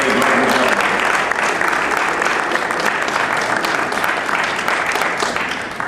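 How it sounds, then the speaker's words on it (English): Sustained audience applause fills a Dallas City Hall event for the State Fair Classic, dense and steady clapping close and loud throughout, tapering slightly at the end. "Give him a round of applause."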